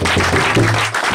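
An audience applauds at a family celebration with a dense, even burst of clapping that lasts about a second and fades slightly at the end, with a low hum underneath.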